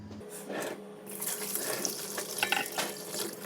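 Hands washed under a running kitchen tap, water splashing steadily and fairly faintly into a sink with shifting rushes.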